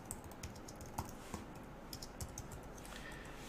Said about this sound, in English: I just begin typing away